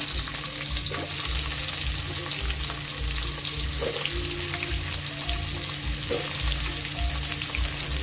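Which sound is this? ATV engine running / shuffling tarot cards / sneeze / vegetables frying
vegetables frying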